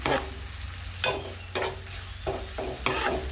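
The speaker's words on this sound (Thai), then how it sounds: "ผัดเครื่องแกงให้มันหอมๆเลยค่ะ" Curry paste for a spicy frog stir-fry sizzling hard in a hot pan, with a constant loud fry hiss broken by four or five sharp scraping stirs, close up and without talk.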